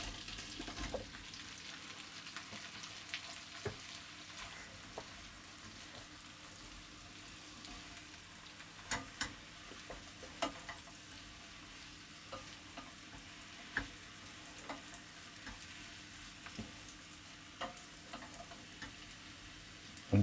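Mushrooms for beef bourguignon frying in a pan, a steady low sizzle with scattered clicks and taps of a utensil tossing them, close and fairly quiet, no talk.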